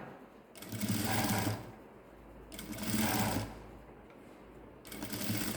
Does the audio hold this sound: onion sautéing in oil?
no